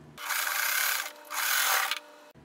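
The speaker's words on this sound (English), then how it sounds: "So just take two 2-inch squares and sew them together" A sewing machine stitches two small two-inch fabric squares together in two quick, close whirring bursts, with a short pause between them and no talking.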